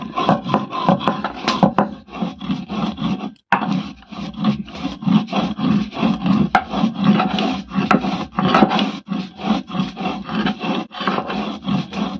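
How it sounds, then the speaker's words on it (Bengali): Fried spices, including mustard seeds, are ground on a grinding stone in loud, rhythmic back-and-forth rasping strokes that repeat steadily with only a brief pause along the way. "এগুলো ভালো করে ভেজে তারপরে হচ্ছে পাতার মধ্যে ভালো করে বেটে নেব"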